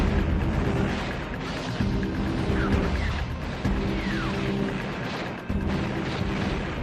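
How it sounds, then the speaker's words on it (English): Dense rumbling battle noise with deep booms and continuous blasts, cannon-like artillery fire layered in a steady roar, loud and without speech. "the cannons, one by one, join the great artillery duel"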